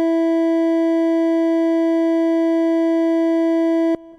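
A single sustained sine tone at equal-tempered E rings steadily for roughly four seconds before cutting off sharply.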